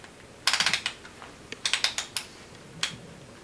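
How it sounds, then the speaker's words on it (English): Adjustment knob on a Knox Handroid hand armour glove being turned, giving quick close ratcheting clicks in short bursts of four or five, then a lone click, crisp and clear over a quiet background. "To adjust it again, push down on the knob. Now you can hear each individual click."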